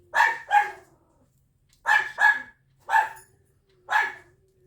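A dog barks indoors in a household setting, six sharp barks in paired and single bursts with short pauses between, close and fairly loud, with no talking over them.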